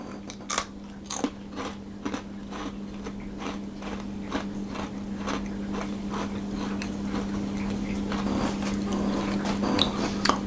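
Crisp bites and crunchy chewing on a thin Swedish ginger snap cookie, a series of close, sharp cracks followed by rhythmic munching, with a steady low hum in the background.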